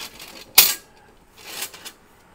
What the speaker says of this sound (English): Now when you fold the stove up